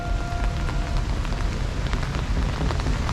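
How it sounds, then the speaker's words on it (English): Steady rain falls on a wet day in Vancouver, a dense continuous patter of drops on hard surfaces with scattered louder splashes, fairly close and with no one talking. "On this fabulous rainy day, not in Georgia, in Vancouver."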